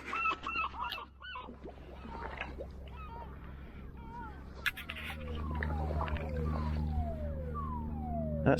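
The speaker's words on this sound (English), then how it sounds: "That siren, if you can hear it, is the siren for the West Mersey lifeboat." The West Mersea lifeboat station siren wails with falling, repeated sweeps in the distance, layered over outdoor background noise and some bird-like calls.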